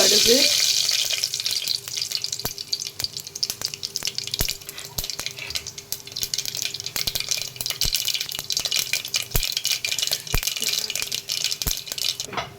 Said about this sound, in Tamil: கடுகு நல்லா பொரிஞ்சதும் வெங்காயம் பச்சை மிளகாய் கருவேப்பிலை